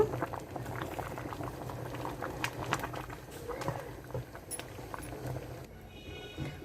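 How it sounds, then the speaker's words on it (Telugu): A pot of lentils bubbles and simmers steadily, a soft continuous gurgle of boiling liquid with a few light clinks, close by. "ఉడికిందండి పప్పు కూడా ఉడికిపోయింది"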